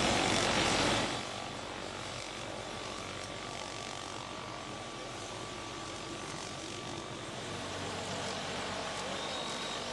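A helicopter at a rescue site near a riverbed makes a steady, loud engine and rotor roar. A sharp burst opens the sound, then it holds an even drone with no voices.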